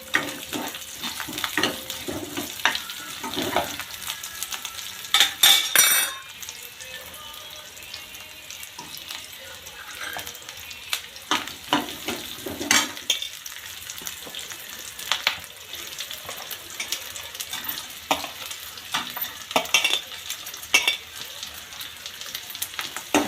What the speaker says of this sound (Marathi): कांदा थोडा लाल होईपर्यंत भाजून घेऊ। त्याच्यानंतर आपण हे मसाले भाजून घेणार आहे त्याच्यामध्ये।